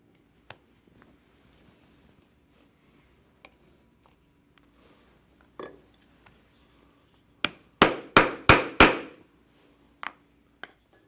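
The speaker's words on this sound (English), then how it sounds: "we can attach our D-ring to the connector strap, and we'll do that with the rivet through the holes that we punched in there earlier" A rivet is hammered to fix a leather D-ring to a connector strap: a few scattered taps, then a quick run of five sharp, loud hammer strikes, followed by two lighter knocks.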